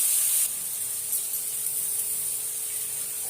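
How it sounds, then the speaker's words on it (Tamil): Vegetables for fried rice sautéing in a pan, a constant close hiss of frying with a brighter, louder burst in the first half second before settling into an even sizzle. "கொஞ்ச நேரம் வதங்கட்டும்."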